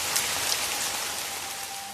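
A rain sound effect for a horror story plays as a steady, loud hiss of raindrops pattering evenly on a surface, with no voices.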